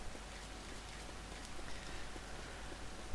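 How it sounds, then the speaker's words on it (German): Steady rain falls outdoors in the game Left 4 Dead 2, a continuous soft hiss of drops on surfaces at low, even volume throughout, with a brief louder bump at the very end. "Und das regnet immer noch draußen."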